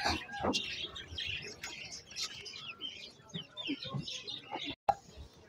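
Poultry and birds at a busy bird market in Islamabad, with clucking and chirping calls scattered throughout, fairly close, over a crowded background of other birds and people.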